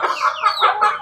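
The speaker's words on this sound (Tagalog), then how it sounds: "Ayan yung sisiw ko" Backyard chickens clucking up close, with short repeated calls in an uneven rhythm over about a second, alone with no talk.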